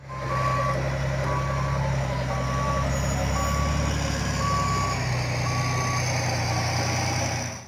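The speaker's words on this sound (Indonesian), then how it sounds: "di sini ada mobil truk pasir lagi" A sand dump truck reversing, its backup alarm beeping in a steady, regular series of evenly spaced tones over a loud, continuous rumbling engine, with no talk.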